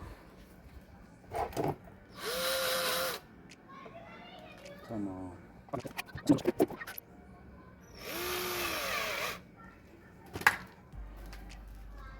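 A power drill drives a screw into a broken household fan during a repair, two loud sustained whirring bursts with quieter handling clicks and rattles between them and a faint voice in the background.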